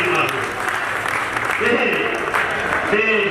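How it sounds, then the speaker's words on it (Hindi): A crowd claps continuously, moderately loud, at a railway employee's retirement event, while a voice talks over the applause. "एक बार जोरदार तालियां"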